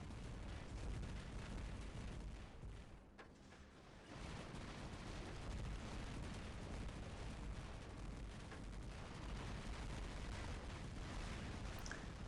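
Rapid, unbroken gunfire from a video game weapon on a full-moon map: a dense, loud roar of shots that runs almost the whole time, dipping briefly near the start before surging back.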